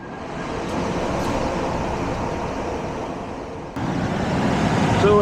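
An ECM-driven condenser fan motor on a Carrier air conditioner that is not cooling spins up to high speed, a steady broadband whooshing whir that holds loud and close throughout, surging slightly louder near the end.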